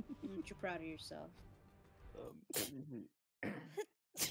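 A single sharp sneeze bursts out in the middle of a tabletop role-playing session, loud and close, surrounded by several people talking.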